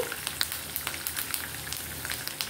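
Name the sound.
tempering (popu) frying in oil for ravva pulihora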